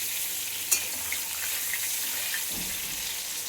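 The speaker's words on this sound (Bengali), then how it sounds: "পটলটা ভাজা হয়ে এসছে।" Pointed gourd (potol) nearly done frying in a pan gives off a continuous quiet sizzle, with a sharp click early on and a faint bump near the end.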